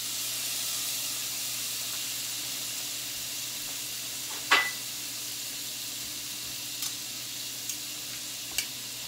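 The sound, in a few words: seasoned shrimp sautéing in plant-based butter and pecan oil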